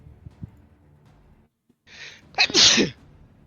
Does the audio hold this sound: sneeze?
yes